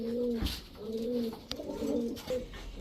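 Club racing pigeons, tagged and stamped, cooing in soft repeated low calls, several rounded coos in a loose rhythm, close by with faint background noise.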